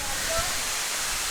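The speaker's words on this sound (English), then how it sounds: "So we've got to the next waterfall now." A jungle waterfall beside a small beach in Sumatra, Indonesia, makes a steady, close, broadband rushing roar with no break.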